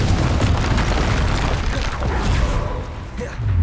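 The Confringo fire spell bursts in Hogwarts Legacy on Xbox Series X, a loud, sustained booming explosion with a deep rumbling tail and dense, crackling noise throughout.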